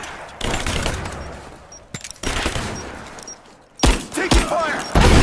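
Rapid gunfire in Rise of the Tomb Raider, with loud bursts of automatic fire in several clusters separated by short lulls and sharp single shots near the end.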